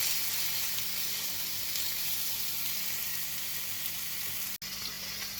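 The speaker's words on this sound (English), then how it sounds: "get that in the pan. Nice big thick pieces of bacon here." Thick pieces of homemade maple bacon fry in a pan with a loud, steady sizzle and crackle that runs the whole time, broken by one very brief dropout near the end.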